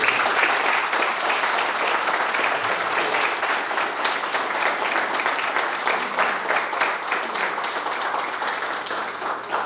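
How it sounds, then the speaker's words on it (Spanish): Applause from a conference audience in New York, a thick, even roar of many hands clapping at close range, holding steady and thinning slightly toward the end with no talk. "Quisiera un aplauso de todos ustedes."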